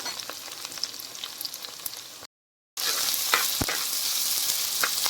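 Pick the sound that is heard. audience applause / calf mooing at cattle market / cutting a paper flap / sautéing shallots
sautéing shallots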